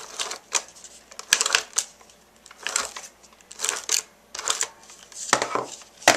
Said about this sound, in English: add some tape.